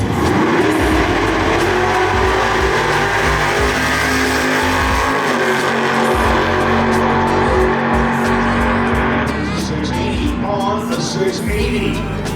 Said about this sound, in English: these cars are big block Hemis, and they pull wheelies